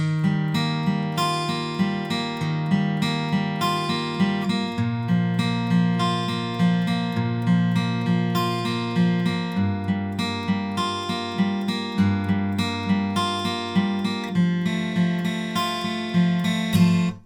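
A guitar plays the bridge of a song in standard tuning: a steady, rhythmic chord passage with regular strums and shifting bass notes, continuous and fairly loud with no voices.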